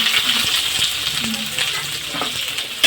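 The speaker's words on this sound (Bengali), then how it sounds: "আলুগুলো ভালো করে ভেজে নেব।" Potatoes fry in oil with a constant close sizzle while a utensil stirs and scrapes them in the pan, ending with a sharp clink.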